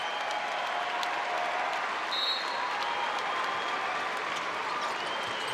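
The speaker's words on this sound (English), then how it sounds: "a nice round of applause" A basketball arena crowd applauds seniors being honored at an ACC men's game, Boston College against Pitt, a steady wash of clapping and crowd noise that holds at an even level throughout.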